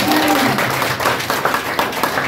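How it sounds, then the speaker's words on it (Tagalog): A church congregation claps for the Lord during a Filipino worship service, a dense, steady wash of many hands that stays loud and continuous from start to finish. "Laksan ang palakpak sa Panginoon"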